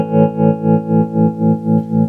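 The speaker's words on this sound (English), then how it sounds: "And what about the tremolo? Tremolo on." A sustained guitar chord pulses through the tremolo of a 1995 Peavey Valverb tube reverb and tremolo processor, swelling and dipping in a steady, even throb about four times a second, close and alone.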